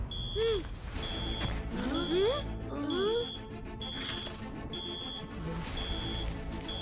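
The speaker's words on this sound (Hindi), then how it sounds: "ये लो जी, अलार्म बजने लगा।" An alarm beeps in a Rudra cartoon, a high tone pulsing in regular short bursts alongside whooshing, sliding cartoon sound effects.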